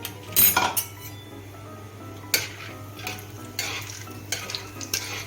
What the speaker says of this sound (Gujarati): હવે આપણે સિંગદાણાને પણ થોડા સાતળી દઈશું.